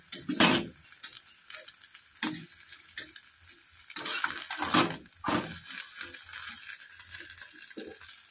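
Egg frying in a pan, with a close crackling sizzle and irregular bursts of spatter and scraping, loud at moments and steady underneath, no talking.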